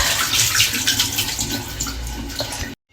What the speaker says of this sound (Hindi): पानी फेंक देती हूँ।